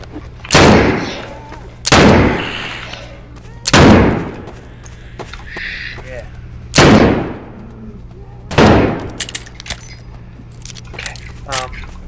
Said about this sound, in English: Did she shoot herself?